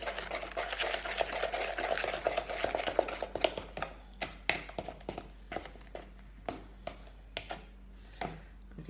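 Vanilla is mixed into batter in a bowl: a dense run of close stirring and scraping gives way to separate, evenly spaced taps of the utensil against the bowl, over a low steady hum.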